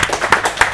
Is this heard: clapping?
yes